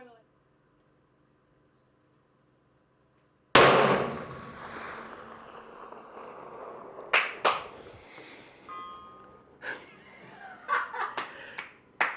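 A CVA Endura Pro muzzleloader loaded with smokeless Vihtavuori N120 powder fires once in a sharp, loud blast with a ringing tail, followed by scattered clicks and handling noises, all outdoors at a long-range 1,000-yard shooting setup.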